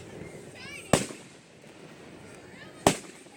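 Two loud fireworks explosions, well apart, from a local Fourth of July display. Each is a sharp bang that tails off, with a faint whistling rise before each one.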